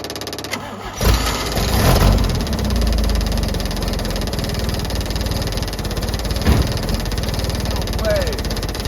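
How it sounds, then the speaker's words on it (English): A 1961 International Travelall ambulance engine cranks and catches, then settles into a steady, slightly uneven idle, close by, with voices talking over it. "I'm gonna try to start the engine and see what happens."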